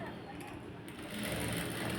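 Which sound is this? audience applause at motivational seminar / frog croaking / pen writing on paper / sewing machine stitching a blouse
sewing machine stitching a blouse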